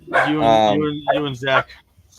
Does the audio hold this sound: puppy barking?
yes